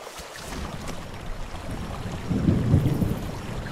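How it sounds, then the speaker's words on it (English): Deep rolling thunder rumbles through a nighttime storm in the dinosaur survival game The Isle, building to a louder low roar near the end, with rain and wind in the background and no talking. "That thunder keeps scaring me."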